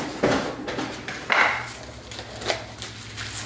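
Metal cookie sheet, muffin tin and cake pans clattering as they are flipped over, with a few loud clanks and knocks up close, then lighter taps.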